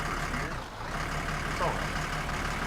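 Car engine humming and rumbling while reversing in the video game My Summer Car, a steady low drone with a brief mechanical rise partway through.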